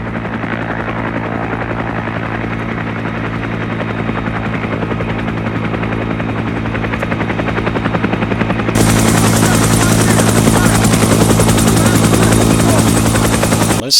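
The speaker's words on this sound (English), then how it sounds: "It's going to be a helicopter with rockets and missiles and stuff." A loud, steady helicopter rotor thrum from the video game Arma 3 fills the whole stretch, growing brighter and more intense partway through as if the aircraft draws closer.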